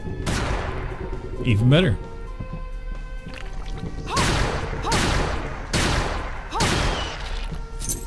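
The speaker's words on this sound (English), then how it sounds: "A gun. Musketoon. Sure. Infinite rounds." Musketoon shots in Bloodstained: Ritual of the Night, several sharp reports spaced a second or two apart over game music and effects, with someone talking briefly.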